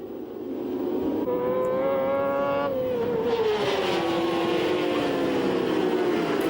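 A pack of 600cc racing motorcycles screaming past on the Lédenon circuit at over 150 km/h, loud high-revving engines rising and then dropping in pitch as they pass close by, with a continuous roar behind.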